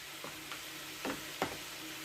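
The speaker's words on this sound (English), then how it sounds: "I'm going to saute a little bit for our string beans" Peppers and string beans sautéing in a pan, a steady soft sizzle with a few light stirring scrapes over the top, quiet and close.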